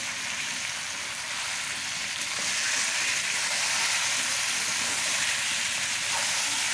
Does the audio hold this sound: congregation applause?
no